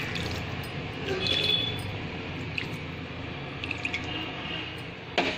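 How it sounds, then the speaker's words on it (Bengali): A little water is poured into a pan of bhetki fish, producing a soft trickle and faint drips over a low kitchen background, with a couple of light clinks. "আর অল্প করে পানি দিয়ে দেব।"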